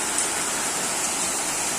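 Heavy rain driven by strong wind in Kerala, a dense, steady hiss of pouring water that stays loud and even throughout, with no voices.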